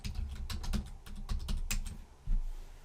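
Rapid, uneven keystrokes on a computer keyboard as a password is entered, a close burst of clicks with a louder tap near the end.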